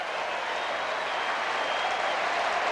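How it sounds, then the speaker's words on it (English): A tennis crowd applauds steadily after Sampras wins the first set 6-4, dense sustained clapping from a large audience, fairly distant and even throughout. "The crowd on their feet."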